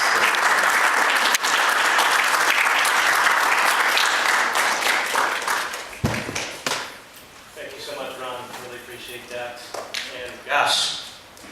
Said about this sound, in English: how about some applause as we welcome you